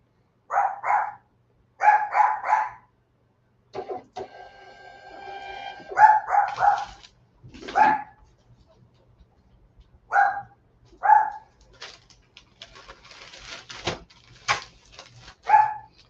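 A distressed dog kept shut indoors barks in short clustered bursts of two or three, fairly close and loud, with whimpers and whines between the barks and a rattling sound near the middle.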